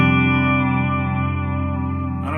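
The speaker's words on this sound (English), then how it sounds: "the bridge pickup especially sounds totally warm and full without being thin or shrill or high-ended" Fender Stratocaster electric guitar on its bridge pickup through effects, one sustained chord ringing thick and steady with echo and chorus shimmer, slowly fading, close and alone.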